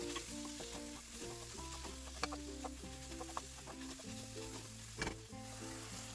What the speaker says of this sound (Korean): 그 다음 식용유 2큰술 넣어서 잘 볶아주세요. 그러니까 양념장을 모두 넣고 볶은 후에